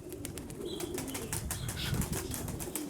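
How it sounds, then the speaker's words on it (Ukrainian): A young pigeon from a flock being flight-trained settles onto a perch, wings flapping in quick fluttering bursts against quiet outdoor background, fairly faint and close, with faint cooing. "Навіть це голуб. Голуб вроді сідає."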